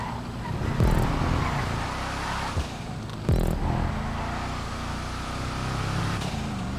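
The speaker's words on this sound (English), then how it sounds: "Sounds like a VW van." A car engine in the GTA racing game, droning low and rough like a VW van, with a steady hum and two brief revving bursts over nearly seven seconds, no talking.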